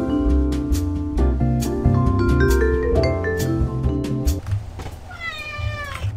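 A loud cat meows repeatedly, long drawn-out calls sounding close, over a steady musical backdrop, with a final rising wail near the end.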